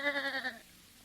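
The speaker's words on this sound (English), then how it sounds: "That sheep doesn't seem to agree with you, Dr. Radis." A sheep lets out a single wavering bleat, fairly close, half a second long before quiet.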